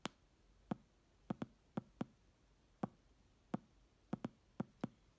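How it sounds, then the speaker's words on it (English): Kick drum from a Roland TR-8S drum machine, played alone as a dozen short, sharp thumps at an uneven pace over a faint background. "So the kick sounds like this."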